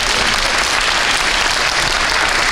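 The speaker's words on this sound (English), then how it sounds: "let's give her a round of applause" An audience at a community safety forum breaks into applause, a dense, steady burst of many hands clapping that fills the room evenly from start to finish.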